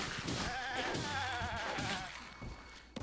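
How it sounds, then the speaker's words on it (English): A goat bleats in The Legend of Zelda: Breath of the Wild, one wavering drawn-out cry lasting about two seconds, close and clear over quiet game ambience. "Oh, it's a goat."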